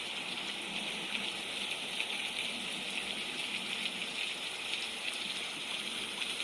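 Steady heavy rainfall on a very rainy day, a continuous dense hiss of drops and running water with no pauses, even and fairly loud throughout.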